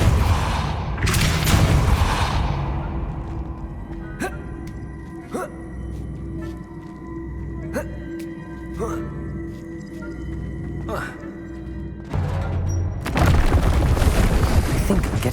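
A Depulso force-push spell is cast in the video game Hogwarts Legacy, giving heavy, rushing blasts at the start and end over a humming ambience, with faint regular ticking between them.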